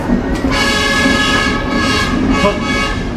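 BB303 diesel locomotive hauling the Lembah Anai passenger train near Padang, a loud steady engine drone and rumble with a sustained horn-like tone over the rolling train, no talking.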